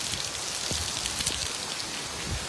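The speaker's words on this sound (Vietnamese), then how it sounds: "Mưa như thế này" Steady rain falls on a trip by tuk tuk, a soft continuous hiss with a few scattered heavier drops tapping nearby, alone without talk.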